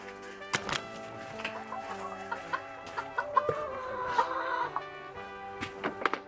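Hens cluck at feeding time in a backyard coop, a scatter of short, moderately close clucks and calls repeating irregularly over faint background noise.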